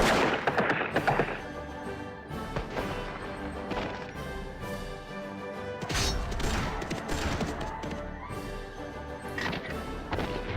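Cannon artillery fire in a Victoria 2 battle sounds as a dense, continuous din of booms and crashing impacts over layered game music, loud throughout with heavier bursts near the start and around six seconds.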